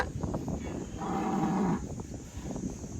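A cow on a cattle farm where cattle are being sold lets out one long, loud, low moo in the middle, with steady outdoor background noise and faint livestock sounds before and after.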